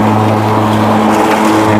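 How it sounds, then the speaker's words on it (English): An EGO 30-inch electric self-propelled lawn mower (LM2130SP) running with its motor and blade engaged while cutting, giving a loud, steady hum with a strong low tone and constant whir, close by, no talking. "Okay, let's show you this in action. We're gonna first engage it, our motor."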